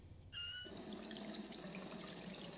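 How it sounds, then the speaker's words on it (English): Tap turned on in the video game Rue Valley, a brief squeaky whistle as the faucet opens, then a steady rush of running water continuing close and clear. "Turn on the tap and drink some water."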